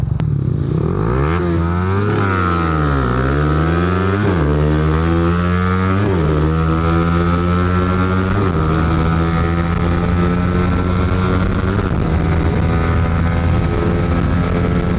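Underbone motorcycles with stock engines, including a Raider Pro and a Rusi, roar down a drag race strip. The loud, close engine note climbs in pitch again and again as the bikes rev through each gear change.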